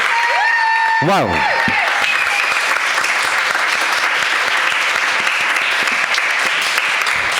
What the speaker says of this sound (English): Can we have a round of applause for all of the artists on tonight?